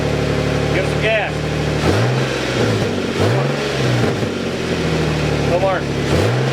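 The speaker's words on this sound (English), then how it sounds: "Give it some gas." A car engine revving as gas is given during exhaust welding work, with several rising rev swells over a steady close idle, and voices talking over the engine.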